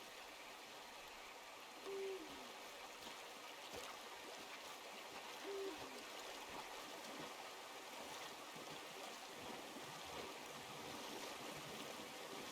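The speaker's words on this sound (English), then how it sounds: "You'll hear the sounds of the water lapping by the rocks." Continuous soft river water trickling and lapping against rocks in Red Dead Redemption, a steady gentle flow with two brief owl-like hoots over it, no talking.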